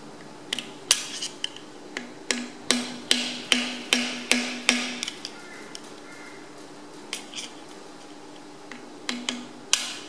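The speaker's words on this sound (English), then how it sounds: "So I'll try and use my little rounded screwdriver here." Small rounded screwdriver chipping thin cylinder liners out of a Massey Ferguson MF135 tractor engine: a run of sharp metallic taps in a steady rhythm, then a pause and a few more scattered knocks, close and clear with no talk.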